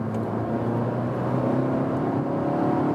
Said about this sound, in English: So what about the acceleration here when we're a little bit faster, like 80 to 100 in third gear?